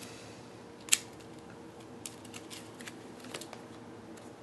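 Board game cards for Shadows of Brimstone are shuffled on a table in a quiet room, giving a soft riffle with one sharp snap near the start and faint scattered flicks and taps after it.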